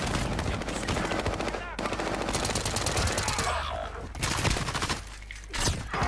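A Bren machine gun firing in Warzone on Rebirth Island: loud rapid automatic bursts rattle in long strings with brief gaps, mixed with other game sounds.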